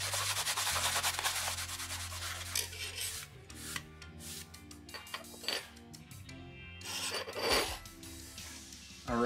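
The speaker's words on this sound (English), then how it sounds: "I decided to use a magic eraser here just to loosen up any surface rust that was here on the metal." Magic eraser rubbed over a rusty pocket knife blade to loosen surface rust, making close, rapid scrubbing strokes that are dense at first, then break into shorter rubs and soft clinks of metal.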